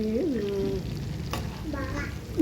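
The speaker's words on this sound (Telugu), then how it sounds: "సిమ్లో పెట్టుకుని వేయించుకుంటే చక్కగా వేగుతూ ఉంటుంది" Amla gooseberries fry in a pan over medium flame, a soft continuous sizzle broken by a few short tonal squeaks and one sharp click midway.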